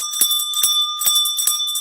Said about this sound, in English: And they will take a bell.